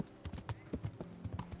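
Horse hooves clip-clop on a town street while riding in the medieval video game Kingdom Come: Deliverance, a quick, steady, close rhythm of hard knocks with faint background ambience.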